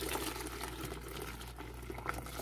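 Soy milk pours steadily into a sink in a continuous gurgling stream, splashing close by for a couple of seconds.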